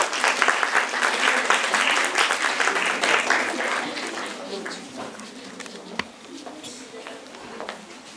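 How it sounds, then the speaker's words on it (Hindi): An audience at a session on AI and Industry 4.0 with Honeywell claps, dense applause that fades through the middle, leaving scattered claps and a sharp knock near the end, with voices heard beneath. "तालियां रुकनी नहीं चाहिए."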